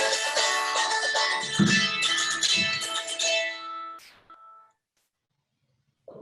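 A mobile phone ringtone plays a melodic electronic tune loudly and close by in a guitar lesson setting, then stops abruptly as it is silenced, with a brief tap and faint noise after.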